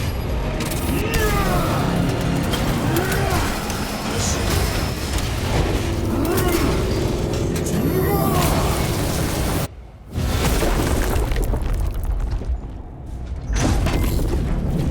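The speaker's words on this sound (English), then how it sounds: "I hear engines." Engines rumble and boom continuously in a Warhammer 40k Space Marine 2 battle scene, a loud dense roar with mechanical clanks and a brief drop partway through.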